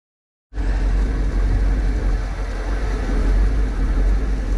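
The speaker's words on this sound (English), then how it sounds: "And that's the port motor running" A restored Bertram boat's port engine idles steadily after starting abruptly, a loud, continuous low rumble with an even throb and no voices.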